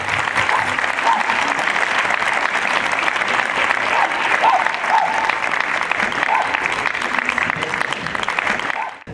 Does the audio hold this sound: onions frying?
no